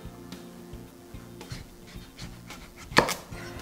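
A kitchen knife slices a butternut squash down the middle on a cutting board, giving a few sharp cuts and knocks spread over a few seconds. The loudest crunching chop comes near the end, with no talking.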